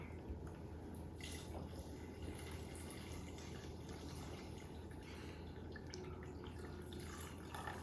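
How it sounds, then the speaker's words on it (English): Water trickles and splashes steadily into a measuring cup, a continuous running pour with faint dripping, close by and without talk. "now I put the water in here, and we're just gonna fill it up to the first line"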